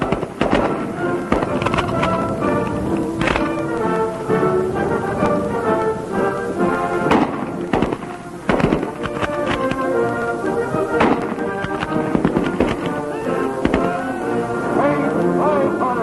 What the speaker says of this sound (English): The trained leatherneck can deal out bullseyes with one of these heavy Browning machine guns